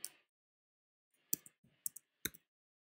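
Several quiet, sharp plastic button clicks, irregularly spaced, as numbers are keyed into a calculator in an otherwise silent room.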